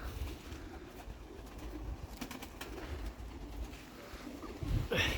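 Black pigeons coo softly in low, rolling bursts over a steady murmur of background noise, with a brief louder rustle near the end.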